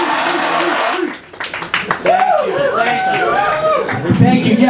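An open mic comedy audience at KGB Bar, a small New York club, breaks into clapping and cheering, with chatter, laughter and loud talking mixed into the applause.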